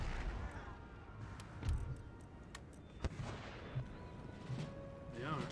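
Mortar artillery fire in the video game Empire Total War: scattered sharp booms and cracks over a dense rumbling battle bed, with a few louder thumps standing out amid the din.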